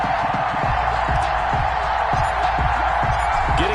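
A stadium crowd in a Madden NFL video game, before a Denver Broncos versus Pittsburgh Steelers match, makes a steady, dense roar of cheering that holds at an even level with no break throughout.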